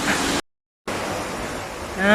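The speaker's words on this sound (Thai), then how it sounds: "มีน้ำตกค่ะ ไหลจึกจักอยู่ตรงนี้นะคะ" Small waterfall flowing on a mountain trail at Phu Soi Dao, a steady broadband rush of water, briefly cut out to silence before resuming, with a faint voice near the end.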